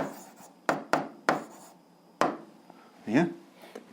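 Pen writing an algebra answer by hand, heard as a few sharp, close scratchy strokes in short bursts with pauses between, a quiet setting with no talk.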